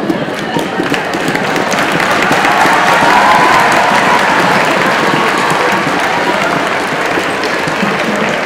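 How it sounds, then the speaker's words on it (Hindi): Loud, sustained applause from a school crowd at a CPR training camp as teachers are called up, a thick continuous roar of clapping with faint cheering mixed in. "तालियां"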